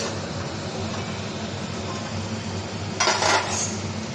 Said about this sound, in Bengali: এবার ঢাকনাটা খুলবো হালকা করে।